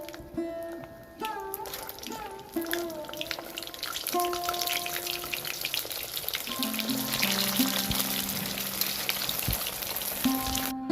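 Chicken cheese momos deep-frying in hot oil give a steady bubbling sizzle that swells and grows denser, with scattered pops and light clinks of a utensil against the pan.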